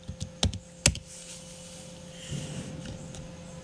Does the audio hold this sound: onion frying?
no